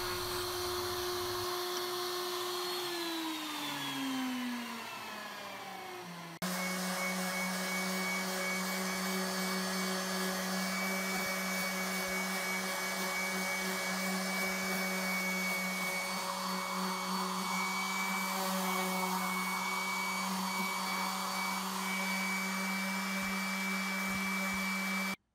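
A Ridgid palm router with a 1/4 inch shank whines steadily up close, winds down briefly, then kicks back on and keeps running at a loud, constant high pitch.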